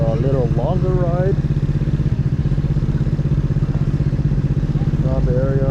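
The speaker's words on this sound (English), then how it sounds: "the bike's running pretty good right now" A Honda Dio Z4 scooter fitted with a swapped GY6 155cc Taida engine runs with a steady, pulsing drone, loud and close throughout, while someone talks over it.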